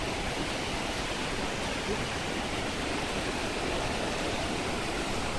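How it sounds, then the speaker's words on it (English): A waterfall in a rocky gorge along the Leukerbad walking trail in Switzerland roars as a dense, constant rush of water, loud and unbroken, with no voices over it. "And the waterfall, it's so relaxing."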